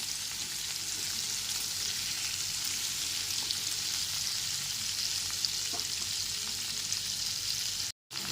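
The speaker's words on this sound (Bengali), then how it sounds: "সমস্ত কেটে রাখা কুমড়োগুলো দেওয়ার পর তিন থেকে চার মিনিট ধরে কুমড়োগুলোকে ভেজে নিতে হবে" Pumpkin pieces for a spice-free potato and pumpkin curry fry in a pan, giving off a steady, even sizzle that stays constant from start to finish, with a brief dropout near the end and no voices.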